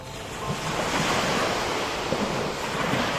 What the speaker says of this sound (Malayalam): കടൽ, കാറ്റ്, കാറ്റാടികളുടെ മർമ്മരം,